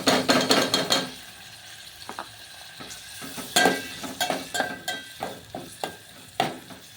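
Tomato and onion fry in a pan for a spiced chickpea ghugri, a close sizzling hiss broken by frequent metallic stirring clanks and scrapes against the pan, irregular and fairly loud, with no voices.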